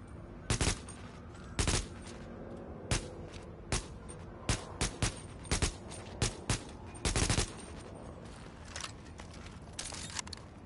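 Gunfire in The Division: loud, sharp shots close by, some single and some in quick automatic bursts, scattered irregularly across the stretch with short pauses between them and no talk.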